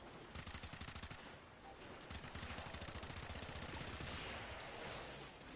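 Machine pistol fire in a PS4 shooter game rattles out in rapid, sustained bursts with brief gaps, loud and dense throughout.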